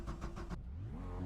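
A race car engine in the iRacing sim at Sonoma Raceway revs in quick pulsing bursts, then cuts and settles into a lower, rising hum, close and moderately loud.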